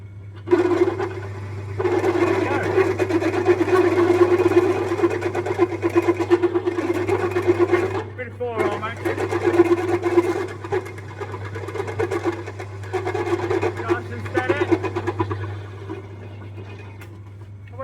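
A Harley Dyna engine on a handmade custom rigid chopper runs steadily for a long stretch, loud and close, with a persistent high squeal riding over the throbbing rumble, briefly dipping mid-way before carrying on.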